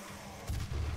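Heavy gunfire in Doom 2016 played on PC, a short burst of low booming shots that thumps in after a brief quieter lead-in.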